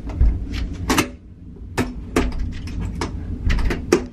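A door in a cruise ship cabin is pushed but will not close, giving a series of knocks, thumps and bumps at irregular intervals over low room noise, with no talking.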